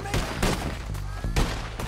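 Rifle shots ring out in the Western video game Red Dead Redemption 2, several loud close bangs spaced irregularly, each with a sharp crack and a rumbling tail, over continuous game ambience.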